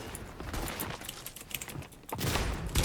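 Rapid, dense gunfire from a video game rattles on as a continuous fusillade, loud and close, with heavier bursts toward the end.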